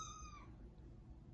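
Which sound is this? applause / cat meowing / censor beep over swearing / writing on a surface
cat meowing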